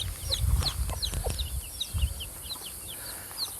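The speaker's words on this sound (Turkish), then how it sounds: "Bakın şu otların arasında yatan tavuk" Village hens clucking close by in low, uneven bursts, with high chirps from chicks scattered over the top and a steady outdoor hiss underneath.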